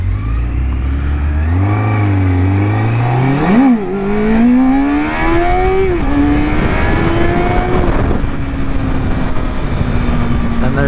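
A 2005 Triumph Daytona 650 sport motorcycle engine revs hard and loud on a test ride, its pitch climbing in repeated surges toward 12,000 RPM with brief dips between gears, close and continuous.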